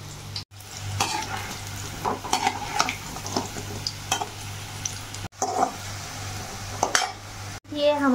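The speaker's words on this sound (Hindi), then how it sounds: "तो यहाँ हमने एक एक पीस उठाकर तेल में छोड़ दिया है।" Pieces of besan paneer fry in hot oil with a steady, bubbling sizzle, while stirring scrapes and clinks of utensils against the pan come and go over it.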